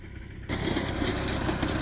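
A farm tractor engine starts up partway through and then runs steadily and loudly, a continuous droning rumble while preparing to sow grass.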